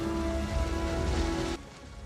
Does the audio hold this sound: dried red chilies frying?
no